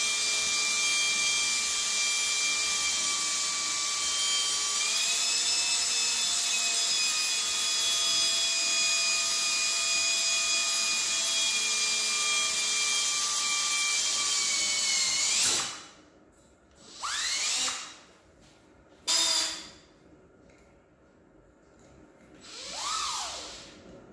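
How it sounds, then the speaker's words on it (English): A steady, high-pitched whine of a drill cutting a pilot hole in metal with cutting oil runs continuously, then breaks into a few shorter bursts of drilling separated by pauses. "Here I'm drilling the other pilot hole and making sure to use cutting oil."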